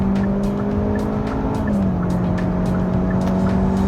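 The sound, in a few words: Hyundai Avante CN7 accelerating at full throttle in sport mode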